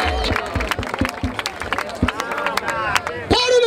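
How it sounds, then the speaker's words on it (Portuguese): A crowd at an outdoor street rap battle in Barueri claps and stirs after a verse, a loose patter of hand claps mixed with murmuring and shouts, ending in a rising cheer. "Palmas pra essa batalha."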